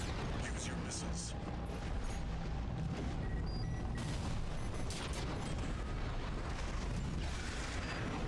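A mech in Armored Core 6: Fires of Rubicon launches missiles amid a loud, dense barrage of booms, blasts and mechanical clatter that runs continuously through the combat, with voices mixed into the battle noise.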